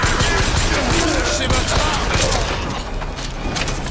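Turret gunfire in Bioshock Infinite, a loud continuous rattle of rapid shots with dense bursts, close and sustained, easing slightly toward the end while someone speaks French over it.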